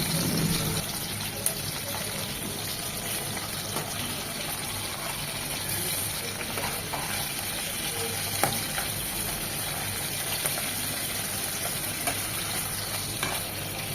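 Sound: frying prawns in a pan

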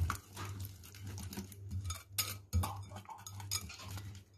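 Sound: whisking cauliflower casserole mixture with a whisk

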